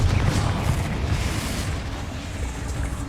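A Confringo blasting spell from the Hogwarts Legacy video game erupts in a loud, deep rumbling explosion that rolls on and slowly fades.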